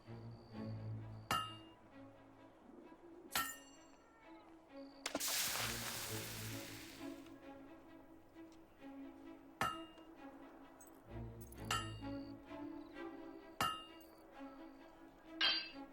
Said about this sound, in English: A good strike.